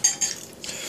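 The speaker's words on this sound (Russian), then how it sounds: "это ложечка" A small spoon clinking against a dish during a meal with chili, two light close metallic taps in quick succession followed by faint scraping.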